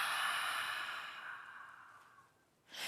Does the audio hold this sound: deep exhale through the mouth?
yes